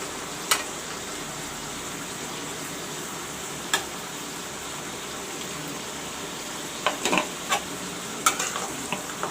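Mutton with salt fries in a pot for curry, giving a steady close sizzle broken by a few sharp stirring scrapes and clinks, with no talking.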